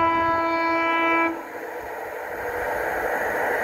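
A Northern Class 150 diesel train passes through a station, opening with a loud sustained two-tone horn blast that cuts off after about a second, followed by steady broadband rumble and wheel noise as the carriages roll by.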